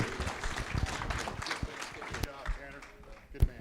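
An auction audience claps for a student auctioneer, a brief burst of scattered applause mixed with crowd noise and a voice talking over it.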